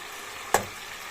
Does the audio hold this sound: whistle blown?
no